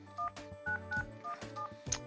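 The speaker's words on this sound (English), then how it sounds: "So I'm gonna dial 9 and then my cell phone number" Touch-tone DTMF beeps from a Yealink VoIP desk phone as a number is dialed, a quick series of short, evenly spaced dual-tone pips, close and clear with no talking.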